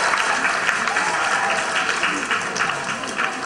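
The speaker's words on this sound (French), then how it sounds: "Allez, on l'applaudit," Steady applause from a school audience at a lecture on molecular gastronomy, dense and fairly loud throughout, with a few voices faintly mixed in.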